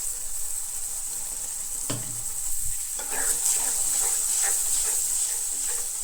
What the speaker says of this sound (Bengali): এখন আমরা নেড়ে চেড়ে দিলাম